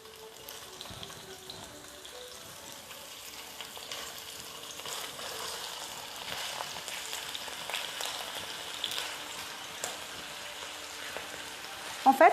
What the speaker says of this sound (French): Et maintenant, l'huile est prêt, donc je vais faire cuire tout.